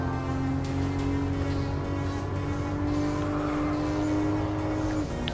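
A Supra race car in Gran Turismo Sport holds a sustained, steady engine drone through a turn with faint tire noise, ending with a brief shift near the end; no one talks.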